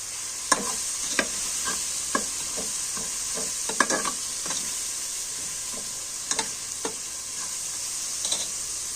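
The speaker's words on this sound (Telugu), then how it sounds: "ఇది బాగా మిక్స్ అయ్యేటట్లు కలుపుకోండి" Steady sizzling of tomato bath frying in a pan, with a spoon scraping and clinking against it every second or so.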